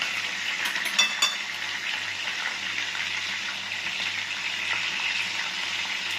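Fish frying in hot oil gives a loud, steady sizzle close by, with a few brief clatters of utensils early on and a low hum underneath.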